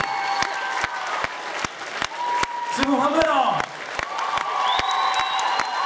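Audience at a 2011 house dance lesson show claps steadily and rhythmically, with cheers and whoops rising over the applause, and people nearby shout and call out.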